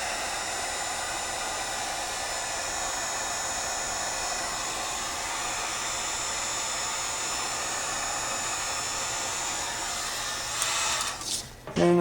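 A heat gun shrinks heat-shrink tubing over wiring with a steady, loud, close blowing roar lasting about eleven seconds, followed by brief handling noises as it cuts off.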